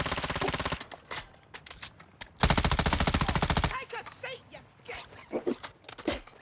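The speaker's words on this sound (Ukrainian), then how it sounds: "Ще сзади по нам стріляють." Rapid automatic gunfire in Call of Duty: Modern Warfare II Warzone 2.0 DMZ rattles in two long bursts near an airport, with scattered single shots and voices talking in between.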